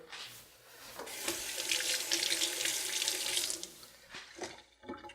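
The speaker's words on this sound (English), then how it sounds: "Adding a little bit of water." Water runs steadily from a tap for a few seconds, a bright rushing splash that stops, followed by a few faint drips and knocks.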